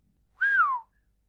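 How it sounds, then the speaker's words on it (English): A man whistles a single short note that rises slightly then glides downward, clear and close in an otherwise quiet setting. "he whistled."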